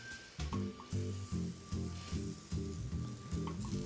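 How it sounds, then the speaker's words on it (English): Sugar and fresh blackberries cook in a pan, a steady sizzle with rhythmic scraping or stirring strokes repeating about every half second, close and moderately loud with no talking. "Wanna just let the sugar melt right in the pan"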